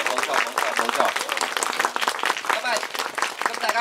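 A cinema audience at a private film screening claps in a dense, continuous patter while someone talks loudly over the applause.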